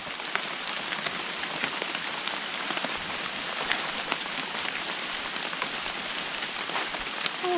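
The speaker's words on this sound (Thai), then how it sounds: "ฝนตกแล้วฝนตกแล้ว" Steady rain falls and patters densely on surfaces outdoors during a mushroom hunt, a constant hiss with scattered nearby drips and taps throughout, with no voices heard.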